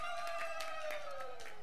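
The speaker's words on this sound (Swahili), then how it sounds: "Tujipigie tena makofi na vigelegele." At a wedding, a crowd claps in a steady rhythm beneath a sustained, wavering high ululation, all faint and somewhat distant.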